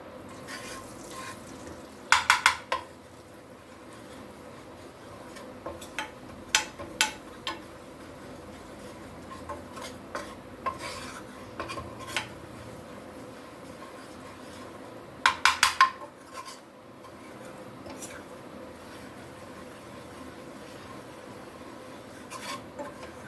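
Flour is roasted in a pan and stirred, with a soft continuous scraping and rubbing broken by intermittent sharp clinks of a utensil against the pan, close and fairly quiet.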